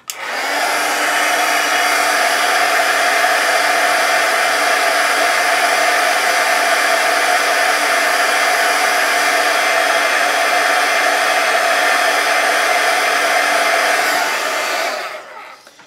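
A heat tool melts embossing powder on a Gelli print on deli paper, blowing a loud, steady, close roaring whoosh for about fifteen seconds before cutting off, with no talking.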